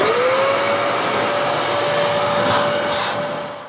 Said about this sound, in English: just to vacuum and clean out the inside of the main unit